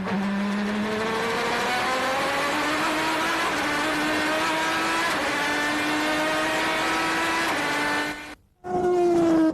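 A Maserati GT race car from the 2006 FIA GT season roars past in a loud, sustained engine drone, rising through upshifts in steady steps before a brief cutout and then a fresh burst of engine noise.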